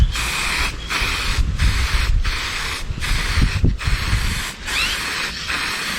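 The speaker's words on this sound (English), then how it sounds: "So let's give this a few light sprays." Duromax Dulux chrome spray paint sprayed in a series of short, loud hissing bursts with brief gaps between them, close up and steady.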